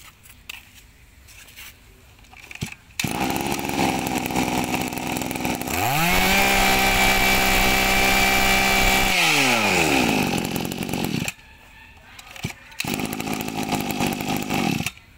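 A Shindaiwa brush cutter's two-stroke engine revs up hard and holds a loud, steady high-pitched whine for several seconds before dropping back, with idling engine running before and after.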